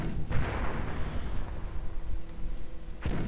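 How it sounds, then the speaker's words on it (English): In a World War II strategy video game, mortar fire bombards a machine-gun position, with two heavy booming impacts at the start and end and a rumbling low roar between them. "Mortars, it's about bombarding the MG."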